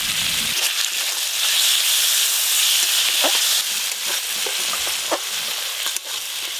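Tomato, salt and turmeric hit hot oil with fried onion and ginger in a pan, giving a loud, steady sizzle with broad hiss and occasional crackles and stirring scrapes throughout, no talk.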